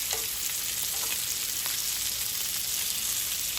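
Potatoes and bacon frying in a crowded pan, giving a loud, steady, close sizzle with faint occasional pops and stirring noises throughout.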